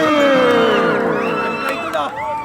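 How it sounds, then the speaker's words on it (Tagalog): A crowd of basketball fans at a league game shouts and cheers loudly, many voices rising and sliding in pitch together in a sustained, close roar. "Grabe, sigawan ng mga fans"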